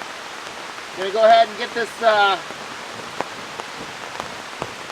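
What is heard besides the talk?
heavy rain falling on a tarp during a rainstorm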